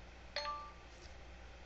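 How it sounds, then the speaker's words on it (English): An iPad gives a soft notification bell as a video upload completes, a single clean chime ringing faintly over a low room hiss and then fading away. "there we go, there's the bell."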